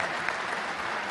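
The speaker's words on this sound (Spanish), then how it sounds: "Y vamos a aplaudir a quienes nos presentaron." A brief wash of audience applause for presenters at an oilseed observatory presentation in Uruguay, with even, continuous clapping from a crowd throughout.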